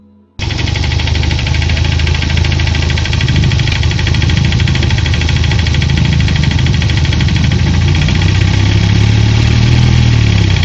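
A motorcycle engine runs continuously and loudly throughout, an internal combustion engine with a steady rapid knocking pulse and a dense mechanical drone close to the listener.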